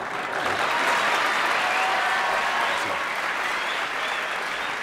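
A studio audience at a French television talk show breaks into steady, dense applause that holds at an even level throughout, with no voices standing out above it.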